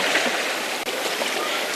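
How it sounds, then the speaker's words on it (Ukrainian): A fast river current with big waves at a Ukrainian junior championship race makes a loud, continuous rushing roar that fills the whole short stretch with barely a break. "Дуже великі хвилі, течія."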